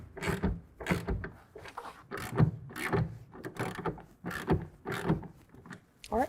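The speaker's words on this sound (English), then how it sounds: "We can go ahead and lock that down using a 1/2-inch wrench or ratchet." A half-inch ratchet tightening a clamp on a TruXedo TruXport soft roll-up tonneau cover on a 2024 Toyota Tacoma, about a dozen rhythmic clicking strokes close by, regular and moderately loud with no talk.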